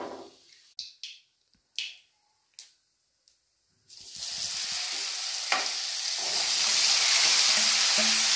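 A few soft clicks and taps, then a steady loud sizzle of carrot curry frying in a pan begins and keeps going, with occasional stirring scrapes.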